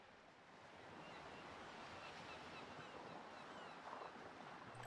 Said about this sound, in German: Wieso höre ich hier Meeresrauschen?